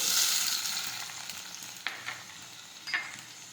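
Onions, tomatoes and chili sauté in a hot pan for an eggplant oro, giving a steady close sizzle that fades a little, broken by a few sharp scraping stirs, with no talking.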